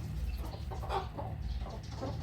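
Chickens clucking nearby in a rural farmyard, a few overlapping low clucks and short calls over a steady outdoor background.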